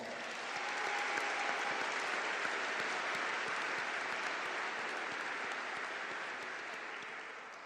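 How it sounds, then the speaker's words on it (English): Audience applause at a college commencement ceremony, a dense, even wash of many hands clapping that swells quickly, holds steady for several seconds and slowly tapers off. "please join me in giving our campus leaders a round of applause"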